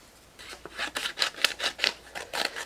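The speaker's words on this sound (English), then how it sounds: "My scissors." Scissors cutting paper up close: rhythmic snipping and rustling, a series of quick crisp cuts repeating at a steady pace, fairly quiet.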